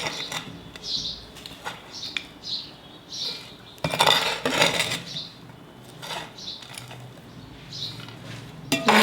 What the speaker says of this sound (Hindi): तो हम 3 चम्मच मिट्टी ले लेंगे और 2 चम्मच कंपोस्ट ले लेंगे